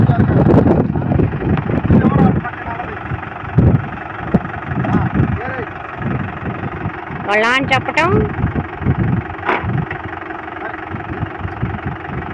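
A tractor engine idles and runs steadily on a farm field, loud and close, with a person talking over it and brief rising whines partway through.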